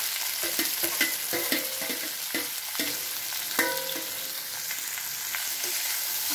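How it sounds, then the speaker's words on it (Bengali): Amla gooseberries frying in a kadai wok for pickle, with a steady close sizzle broken by repeated scraping and clattering stirs of a spatula against the pan. "আমলকিগুলো ভালো করে ভাজা ভাজা করে নিতে হবে।"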